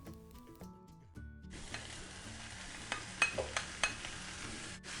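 Onions and minced meat fry in a pan, a soft steady sizzle that starts after a brief quiet stretch, broken by a few sharp scrapes and clinks of stirring, close and fairly quiet, with no voices.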